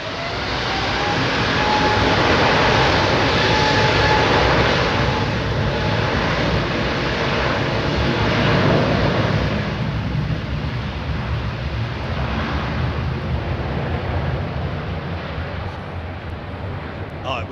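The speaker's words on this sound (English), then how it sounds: "it was the Egypt Air starting up that was making all that noise" EgyptAir jet engines, Rolls-Royce Trents, spool up at Heathrow Airport in a loud, continuous broadband roar with a faint rising whine, steady for the whole stretch and slowly easing toward the end.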